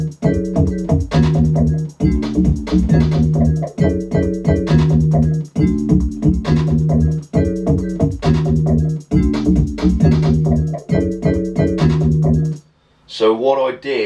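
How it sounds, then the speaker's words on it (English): A plain FM synth with no presets plays a repeating grime riff of punchy, harmonically rich stabs and sustained bass notes in a steady bar-by-bar loop, loud and dry, ending with a brief different flourish. "This is just the FM synth, no presets or anything on it, just bog standard."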